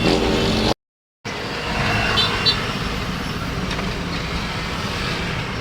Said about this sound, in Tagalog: Ayan, umpisa na ang traffic.